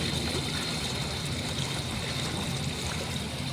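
Water rushes steadily through the old intake gates of an abandoned riverside powerhouse on the Muskegon River, a continuous loud broadband flow with no breaks.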